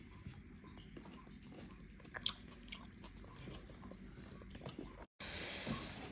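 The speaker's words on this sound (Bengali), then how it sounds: "তো আঙ্গুর খাই এই আঙ্গুরগুলো খুবই মিষ্টি" Close, quiet biting and chewing of sweet grapes during a home iftar meal, with small crunchy mouth sounds in an irregular rhythm and a brief hissy noise near the end.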